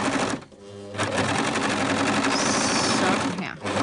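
A sewing machine stitches the ribbed hem of a homemade bumblebee costume, a loud, close, fast mechanical whir in bursts with a brief pause near the start and another near the end.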